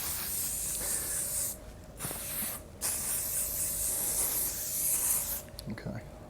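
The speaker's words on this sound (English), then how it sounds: "I'll have another bit of hairspray" Hairspray hisses from an aerosol can onto hair in bursts of spray, close and fairly loud, during a salon styling session with people talking nearby.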